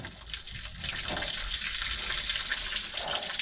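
Water gushes steadily from a failed overflow on cast iron drain plumbing in a flooded crawlspace, a loud continuous rushing splash with no pause.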